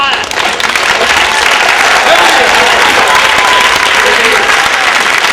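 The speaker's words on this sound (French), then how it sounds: "Et je vous autorise à m'applaudir." Loud, sustained applause fills a theatre during a French stage comedy, a thick wash of many clapping hands that holds at full strength from start to finish.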